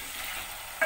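Chicken and onions fry together in a pan with a steady, moderate sizzle, and a brief stirring scrape near the end, with no talking.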